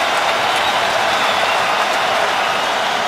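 A stadium crowd at a 2013 preseason NFL game between the Texans and Vikings gives off a loud, dense, steady roar of cheering and noise with no breaks.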